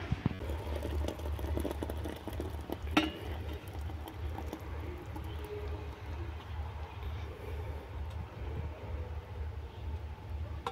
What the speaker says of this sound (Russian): Кипятим чайник.